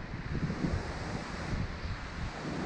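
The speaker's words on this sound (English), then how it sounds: "Probably can't hear anything because of this wind up here." Strong wind buffets the microphone on a high clifftop above the sea, a steady low roaring rush that fills the whole stretch with no voices over it.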